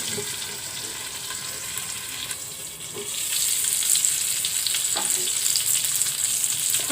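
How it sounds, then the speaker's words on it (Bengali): Hilsa fish fries in plenty of oil with a steady close sizzle that grows louder and more crackly partway through, ending in sputtering spits. "ইলিশ মাছের ফ্রাই ভাজিটা।"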